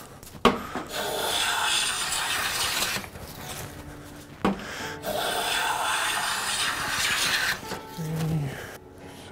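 Hand plane shaving wood on a Roubo-style winding stick, two long rasping strokes with a sharp knock at the start of each, close and fairly loud with no talk.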